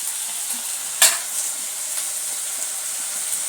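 Tomatoes sauté in a pan for kovaikai kuzhambu, giving a steady bright sizzle with a single sharp scrape of stirring early on.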